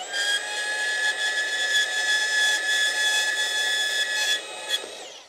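A saw blade cuts through metal during electrical panel work at a Vancouver house, giving a steady, loud high-pitched whine with ringing tones that holds for about four seconds before tapering off, no voices over it.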